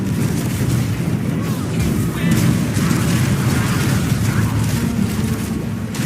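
Incendiary bolts bursting in the action game Path of Exile 2, a dense, continuous rumble of booming fiery explosions that stays loud and full throughout, layered with crackling debris.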